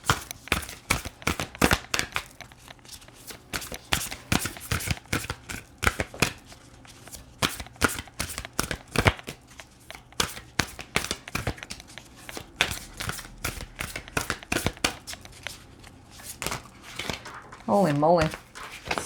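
Tarot cards are shuffled up close in quick rhythmic bursts of riffling and slapping that carry on throughout, with a voice talking over part of it.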